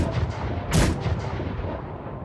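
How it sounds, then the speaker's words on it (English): A single dull, distant boom rolls out over low rumbling background noise, like cannon fire far away. "4 cannon shots can be heard in the distance."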